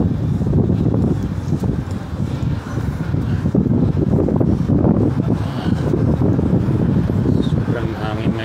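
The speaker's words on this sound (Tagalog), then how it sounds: "Sobrang hangin ngayon." Strong wind buffets the microphone outdoors in Birkirkara, Malta, a loud, uneven low rumble and gusty roar that persists throughout, with a person speaking over it.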